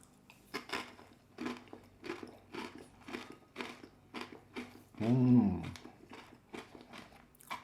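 Close, steady crunchy chewing of crackers with St. Albans brie-like cheese from Vermont Creamery, rhythmic bites about twice a second, with a brief hum of voice partway through.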